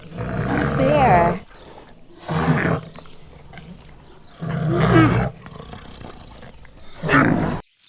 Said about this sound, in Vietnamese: Con gấu.